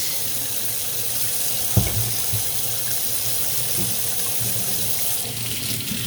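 Tap water running steadily into a pot at a sink for dyeing wool, a continuous hissing splash with one brief clunk early on, close and alone.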